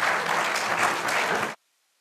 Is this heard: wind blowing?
no